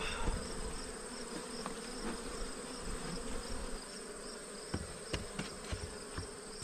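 Honey bees buzzing around an open hive during an inspection, a close, continuous droning hum with occasional individual bees zipping past the microphone.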